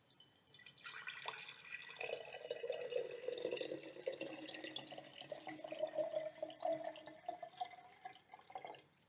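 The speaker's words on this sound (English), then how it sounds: "we are going to fill our jar halfway with water" Water pours from a tap into a jar, a steady splashing stream whose pitch slowly rises as the jar fills, close and fairly quiet, ending abruptly.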